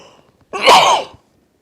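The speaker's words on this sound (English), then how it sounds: "I think I'm going to sneeze." A single sharp sneeze bursts out close by, brief and loud, after a moment of near silence.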